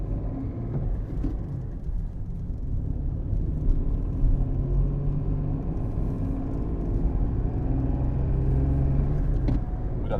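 Engine rumble heard from inside a car driven along a UK road by a new driver, a steady loud low drone with road noise, continuous and without talk.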